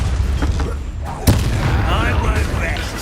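A Confringo blasting spell detonates in Hogwarts Legacy, one sharp, loud boom midway through, set against steady game ambience and a few softer earlier thuds, with a voice talking over part of it.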